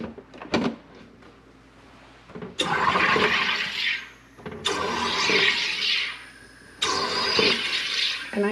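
Three loud bursts of hissing, buzzing carbonation from a SodaStream Terra soda maker carbonating water, each lasting a second or more, with short pauses and faint clicks between them.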